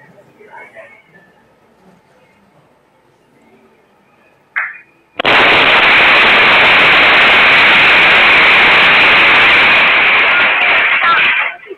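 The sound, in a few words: gas cylinder explosion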